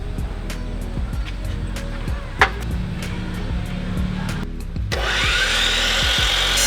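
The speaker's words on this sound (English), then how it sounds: "I've really been loving this DeWalt miter saw" A DeWalt miter saw cuts 2x8 lumber: faint rhythmic scraping and a sharp knock give way to the saw motor spinning up loudly near the end, close and without talk.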